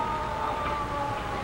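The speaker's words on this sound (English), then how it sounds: "a convoy of 18 civilian defense pumpers from Northern California roared south, red lights flashing, sirens screaming" A wailing fire engine siren sounds from a convoy of eighteen civil defense pumpers out of Northern California, racing south to a forest fire in the 1950s or 1960s. The steady, sustained tone rises and falls slightly over a rough, noisy background.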